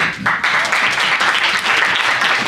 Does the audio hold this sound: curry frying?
no